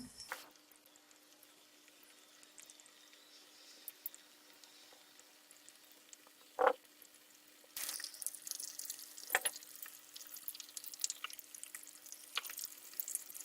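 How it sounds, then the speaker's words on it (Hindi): Chicken nuggets frying in oil over medium heat: a quiet stretch with a single pop, then a steady, fairly close sizzling hiss with scattered crackles takes over for the final seconds. "बिल्कुल दरमियानी सी आंच पे आप इसे फ्राई करें"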